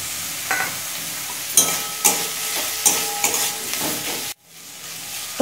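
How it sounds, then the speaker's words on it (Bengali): Onion and chopped tomato fry in oil in a pan for a tilapia fish curry, a steady close sizzle broken by several stirring scrapes before the sound briefly drops out. "টমেটো দিয়ে আমি মিনিট খানেক ভেজে নিয়েছি।"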